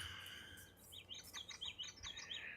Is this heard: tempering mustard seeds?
no